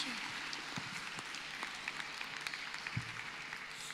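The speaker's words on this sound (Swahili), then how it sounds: "Makofi kabisa." Steady applause from a church congregation at a Sunday service, faint and distant, a dense patter of clapping holding for several seconds.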